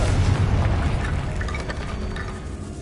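A Confringo blasting spell detonates in the Hogwarts Legacy video game, a deep rumbling boom that holds loud and steady across the whole stretch, with crackling debris above it and no voice.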